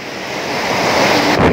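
Waterfall at Pyin Oo Lwin, Myanmar, roaring close and loud as a dense, steady rush of falling water that swells slightly over its short span.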